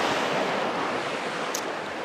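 Steady rushing surf of an incoming tide washing in, broad and continuous, with some wind noise on the microphone.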